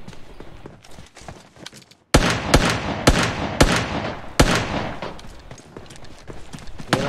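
Gunfire in a video game cracks out as several sharp, loud single shots in an irregular rhythm after a brief quiet lull, over low background game sound.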